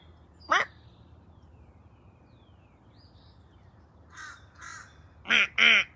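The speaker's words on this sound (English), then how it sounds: "I could just caw back at the crow" A crow caws outdoors, with one sharp call followed after a pause by several harsh caws grouped near the end. A steady low background hiss runs underneath.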